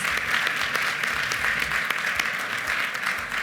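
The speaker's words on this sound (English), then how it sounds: "Please give us a round of applause for our supporters and sponsors." Dinner guests applaud at an annual school celebration dinner, a steady, dense round of clapping from a large room that holds evenly throughout.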